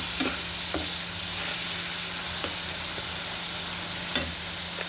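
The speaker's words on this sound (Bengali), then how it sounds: "মশলাটা ভালো করে সুন্দরভাবে কষিয়ে নেব।" Spices with cumin powder fry in a pan for a fish and spinach chorchori, a steady close sizzle carrying a few sharp scrapes of a spatula against the pan as the masala is stirred.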